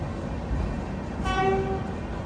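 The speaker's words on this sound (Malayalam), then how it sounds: "ഈ ഒരു പ്ലാറ്റ്ഫോമിലേക്കാണ് നമ്മുടെ വണ്ടി വന്നത്" A Northern Railway train pulls into Yog Nagari Rishikesh station platform, a low steady rumble under a single clear horn toot that sounds midway and fades.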